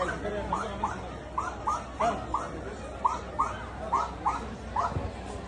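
A dog at a dog show at Murugha Math gives a quick series of roughly ten short, sharp yelps and yips at a close, moderate level over faint background chatter.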